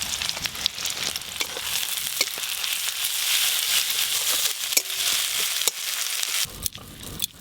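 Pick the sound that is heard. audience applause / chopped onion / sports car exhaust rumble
chopped onion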